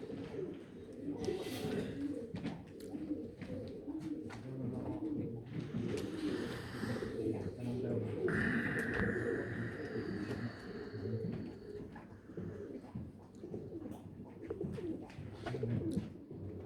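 Jacobin pigeons coo steadily at a British show, with close, continuous cooing and a soft murmur of people talking underneath.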